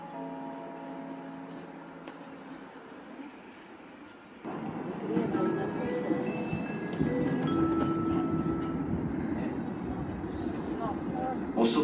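A passenger train arrives at platform 3 at Bratislava-Vinohrady station. A public-address voice speaks first, then a heavy rolling rumble sets in and grows as the train draws closer and pulls alongside.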